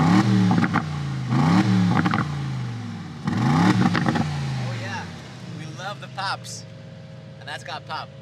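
A new Aston Martin Vantage revs loudly in several rising bursts, then sharp exhaust pops and crackles trail off as the engine settles, with a voice briefly speaking near the end.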